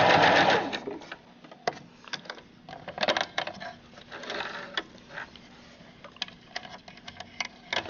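Sewing machine back stitching a hoodie seam in short, start-stop bursts of rapid mechanical ticking, close by, with brief pauses between the runs.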